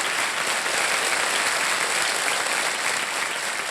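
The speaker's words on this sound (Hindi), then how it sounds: "जरा जोरदार तालियां बज जाए इनके लिए।" A studio audience on a television quiz show breaks into loud, dense applause, a continuous wash of clapping filling the space from start to finish with no voices over it.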